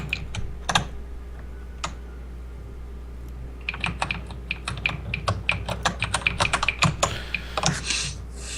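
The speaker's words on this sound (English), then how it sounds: "Trying to type quietly." Computer keyboard typing, a few isolated key taps at first, then a quicker run of close, crisp clicks with a steady low hum underneath; no one talks.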